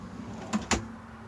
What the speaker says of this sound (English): Soft close drawer slides.